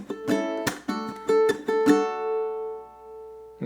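Ukulele strumming measure 17 of a song, a handful of sharp chord strokes in a lively rhythm, then a final chord left to ring and fade, played alone.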